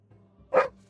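A pet dog named Balder gives a single short bark in the background while playing indoors, preceded by faint low shuffling and murmuring noise.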